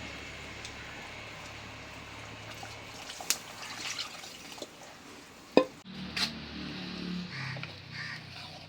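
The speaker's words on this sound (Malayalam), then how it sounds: "നമ്മുടെ ആവശ്യത്തിനുള്ള വെള്ളം ചേർക്കുക." Water is poured into a Kerala-style pomfret fish curry with a short splash and trickle amid soft kitchen clatter, then a quieter bubbling follows.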